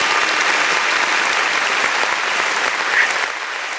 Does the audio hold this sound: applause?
yes